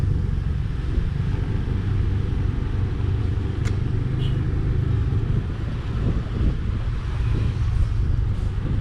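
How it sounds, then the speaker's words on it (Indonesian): Weekend road traffic on Jalan Raya Pantai Kuta in Bali, with a steady, dense rumble of cars and motorbikes passing close by, continuous engine drone and some wind buffeting on the microphone, no talking. "Seperti ini teman-teman suasana lalu lintasnya di Jalan Raya Pantai Kuta."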